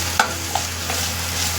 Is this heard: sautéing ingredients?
yes